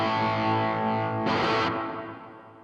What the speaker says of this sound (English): You can hear all the reverb that's in there.